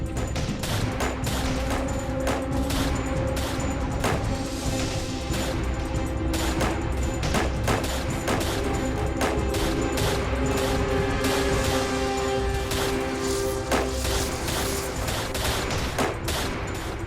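Dense, continuous gunfire volley from a movie battle scene, with many overlapping shots and bursts sustained loudly throughout, like massed soldiers firing at will, with no pauses or clear speech.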